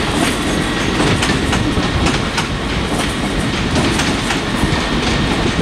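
ScotRail trains at Edinburgh Waverley station: a loud, steady rumble of rolling stock with rhythmic clickety-clack of wheels over rail joints and faint squeals, continuous throughout with no speech.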